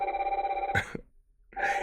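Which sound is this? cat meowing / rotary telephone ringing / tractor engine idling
rotary telephone ringing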